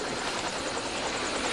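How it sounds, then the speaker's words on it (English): A loud, continuous helicopter roar with rhythmic rotor chopping fills the air, steady and close, with no voices. "Oh, it sounds like a helicopter."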